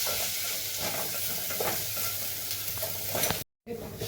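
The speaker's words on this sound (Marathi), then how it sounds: "आता हे धुतलेले तांदूळ घालते मी. 1 वाटीभर आहेत. तुपावर चांगले छान परतून घ्यायचे" One bowl of washed rice is stirred and fried in ghee in a pan, producing a close, continuous sizzle with scraping stir sounds. The sound cuts out abruptly for a moment near the end, with no talking.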